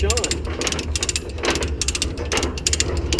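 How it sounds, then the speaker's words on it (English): A hand ratchet repeatedly clicks as a chain is tightened to drag heavy equipment up into a trailer, rapid metallic pawl clatter in steady bursts, close and prominent over a low rumble. "will just ratchet this thing right up into the trailer"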